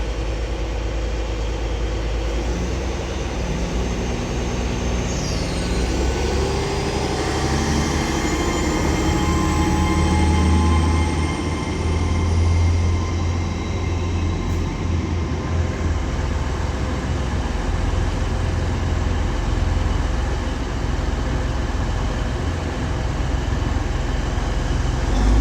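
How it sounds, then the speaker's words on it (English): A TransPennine Express Class 802 train pulls out of Stalybridge station on the Huddersfield line with a sustained rumble of engines and wheels, rising and easing as it moves off, plus a faint high rail squeal, no talking. "Now departing is going to be the 1540 Transpennine Express service to Hull from Liverpool Lime Street"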